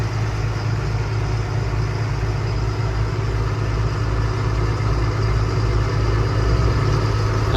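Farm tractor with its PTO just switched off after corn chopping, pulling away with a steady, loud low-pitched diesel drone and no talk over it.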